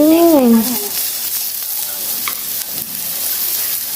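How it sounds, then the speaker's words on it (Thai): Shrimp sizzling on a hot mookata grill pan make a steady, loud hiss. A brief voice is heard at the start. "อันนี้แค่เผากุ้งไม่ต้องทำอะไรแล้ว"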